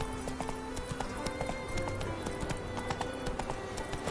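A horse gallops in The Witcher Wild Hunt video game, its hooves clip-clopping in a quick steady rhythm at close range, with faint game sounds in the background and no talking.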